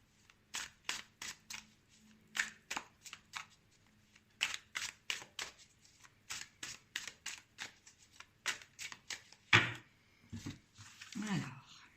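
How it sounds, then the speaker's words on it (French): Tarot cards being shuffled and dealt by hand, a long run of crisp close flicks and snaps in uneven bursts, quiet between strokes, with soft handling noise near the end. "je vais vous tirer 5 cartes"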